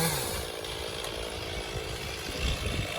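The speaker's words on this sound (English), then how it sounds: "Dueling chainsaws." Two chainsaws, one a Stihl MS460, buck an elm tree into firewood. Their engines snarl together in a loud, continuous roar with uneven bogging as the chains bite the wood, and no talk is heard.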